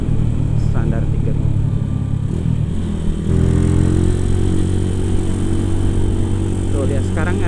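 A Honda Tiger motorcycle engine fitted with a PWK 28 carburetor revs loudly and steadily at high RPM, with a rising pitch partway through and someone talking over it.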